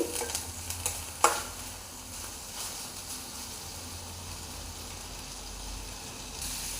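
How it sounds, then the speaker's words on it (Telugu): Spices and dry coconut lightly frying in a pan, a faint steady sizzle with a few scraping stirs and a sharp clink near the start, then a quiet continuous crackle. "లైట్గా ఫ్రై అయితే సరిపోతుంది ఎండు కొబ్బరి కూడా ఇందులోనే వేసానండి"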